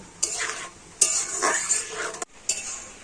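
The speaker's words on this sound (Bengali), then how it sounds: "এখন আমি একটু নাড়াচাড়া করে আর ফুটিয়ে নেব" Ripe mango jelly candy mixture is stirred in a pot as it boils. A spoon scrapes and knocks against the pot in a busy run, with a brief pause before the stirring resumes. Close and fairly loud.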